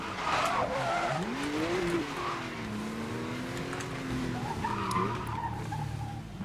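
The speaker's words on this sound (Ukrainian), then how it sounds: "Так, пробуксовуємо." Tires squeal and spin in the 2012 Need for Speed: Most Wanted racing game as a car loses grip, a continuous skidding screech riding over a steady engine drone, with no speech.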